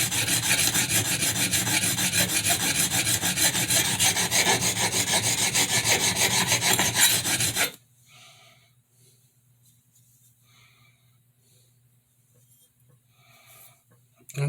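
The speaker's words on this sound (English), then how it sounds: "you're grinding a lot of thick bolster" Thick bolster of a kitchen knife ground down during edge repair and reprofiling, a loud continuous rasping grind for about eight seconds that stops abruptly, leaving near silence with faint scattered ticks.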